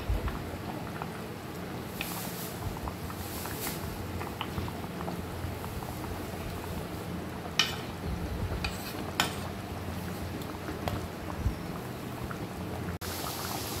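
Pieces of fish simmering in a pot of boiling water, a steady, dense bubbling hiss with occasional faint clinks and splashes, with no voices.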